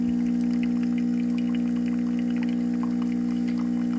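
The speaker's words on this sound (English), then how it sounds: "and you can see the coffee is dripping already." A De'Longhi ECP3420 bar pump espresso machine brews with a loud, steady pump hum, while coffee drips faintly and irregularly beneath it, close up.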